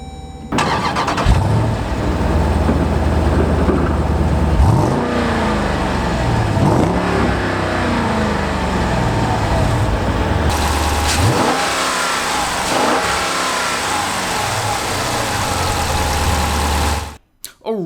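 A 2017 Jeep Grand Cherokee SRT with its naturally aspirated 6.4 liter Hemi V8 idles and then revs repeatedly, climbing and falling in loud, close sweeps before cutting off abruptly.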